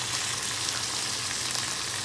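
Diced beef sautéing in a pan, a steady, dense sizzle with a faint low hum beneath, continuous and moderately quiet with no talk.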